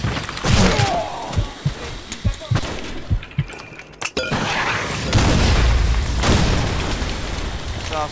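A grenade goes off in the shooter game Blackshot Revolution during a clan war match: a heavy booming blast with a long rumbling tail follows several sharp shots, with voices talking over it.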